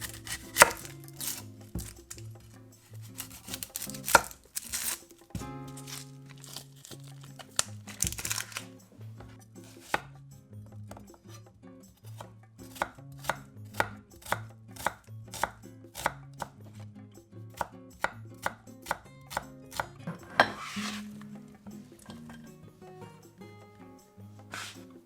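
Knife chopping an onion on a board in a steady run of sharp, close taps that continue throughout, heard over soft background music.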